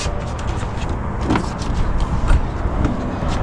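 A 2018 Jeep Wrangler power seat motor whirs steadily as the seat slides back from the steering wheel, a close, continuous mechanical hum inside the cabin with no talking.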